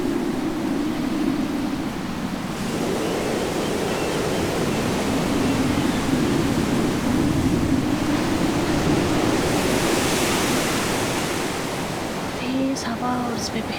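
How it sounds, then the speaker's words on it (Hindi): Steady sea surf breaks against the shore beside a lighthouse, a broad, continuous roaring wash that swells and recedes, loud and close, with some wind and a few faint knocks near the end. "समुद्र की लहरें शोर मचाती हुई किनारे से टकरा रही थी"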